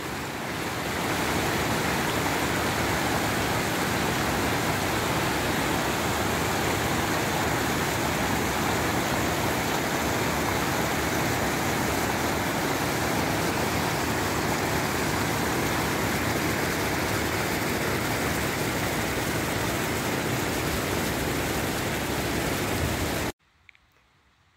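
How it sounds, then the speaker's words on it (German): Snowmelt-swollen mountain streams rush through an Alpine forest on a hike near Sellajoch and the Seiser Alm, a loud, steady roar of water that continues without a break and cuts off abruptly at the end. "dank Schneeschmelze rauschen die Bäche"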